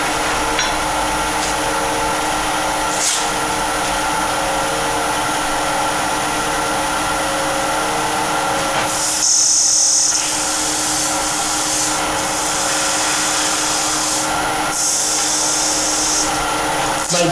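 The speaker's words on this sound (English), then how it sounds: "Then I'd normally just sand and blend all of this in." A wooden natural-edge vase spinning on a lathe is sanded, giving a loud, continuous whirring hiss with brief changes in pressure and texture as the abrasive is moved across the piece.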